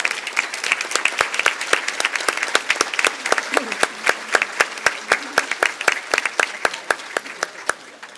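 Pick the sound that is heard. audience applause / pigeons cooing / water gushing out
audience applause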